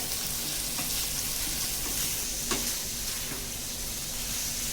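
Chicken and softened onion frying in a pan while being stirred, a steady dense sizzle that runs throughout, with faint scrapes of stirring and no one talking.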